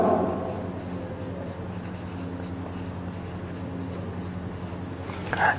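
Chalk or marker scratches across a board during a lecture in a series of short, steady strokes, quiet and close, with a faint voice underneath.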